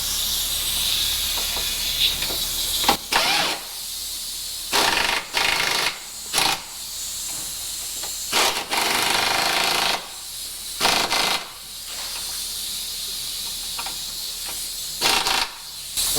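An air ratchet fastens control arm bolts on a car, firing in repeated short bursts of loud, hissing, buzzing rattle separated by brief pauses, close up with no talking.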